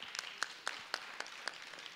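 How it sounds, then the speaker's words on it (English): At a community forum on justice issues, a few faint, evenly spaced claps ring out, sparse and quiet rather than a full crowd ovation. "Let's give them a big round of applause."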